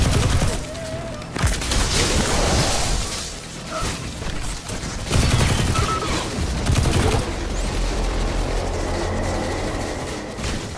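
Sustained gunfire in the Destiny 2 video game: rapid overlapping shots and bursts throughout, with occasional heavier thumps, continuous and fairly loud, with no talking.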